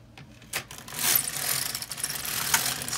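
An LK 150 knitting machine carriage sliding across a row while knitting a Christmas stocking, a close rising mechanical whir and rattle of needles lasting a couple of seconds.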